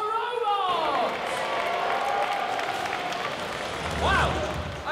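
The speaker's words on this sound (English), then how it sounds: "Big round of applause for our robots!" A studio audience at Robot Wars claps and cheers for the robots, a loud, continuous roar of applause with crowd voices and a host talking over it.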